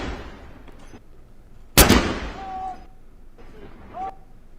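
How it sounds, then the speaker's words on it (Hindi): A ceremonial British cannon salute in honour of Queen Elizabeth II: a single loud, sharp boom that rolls off in a rumbling decay, set against quieter outdoor background noise and faint voices. "ब्रिटेन की परंपरा के मुताबिक तोपों की सलामी दी गई"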